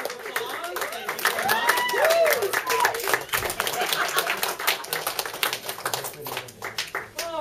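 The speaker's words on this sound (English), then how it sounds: "Let's give them both a round of applause" Audience applause for two stage performers at a Wonderground show, a dense patter of clapping with someone speaking over it and some rising whistle-like tones in the mix.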